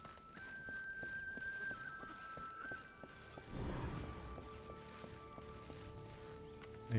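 In the game Darksiders 2, a horse's hooves clip-clop in a steady rhythm beneath game music, then a louder rumbling surge arrives around the midpoint before the hoofbeats settle back.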